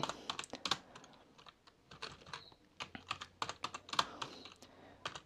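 Typing code on a computer keyboard: quick, close, irregular clicks and clacks in short bursts with brief pauses, fairly quiet and without voices.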